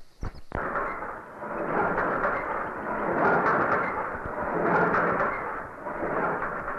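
A helicopter flies overhead in a film scene: a loud, continuous rumbling rotor roar that swells and fades in slow waves, opened by a sharp knock at the start.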